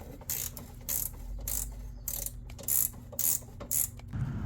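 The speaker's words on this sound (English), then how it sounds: "Come in here with this little ratchet wrench." Small ratchet wrench loosening 10 mm bolts during a 2005 RAM 1500 5.7L HEMI engine replacement, with several bursts of close, sharp clicking separated by brief pauses and no talk.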